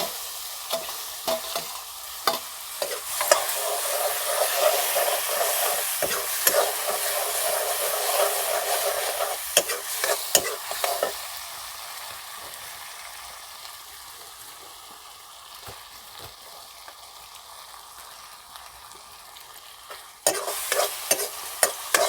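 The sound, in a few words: stir-frying boiled colocasia greens in a pan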